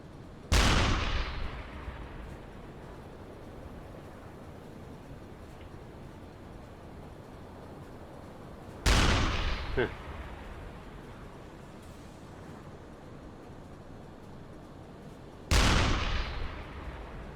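Three heavy, booming gunshots from enemy craft firing at a U-boat in the UBOAT game, widely spaced with ringing decay between them.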